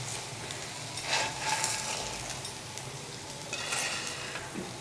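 Potato snacks fry in hot oil with a soft, steady sizzle and crackle that swells slightly at moments, fairly quiet and without any talking.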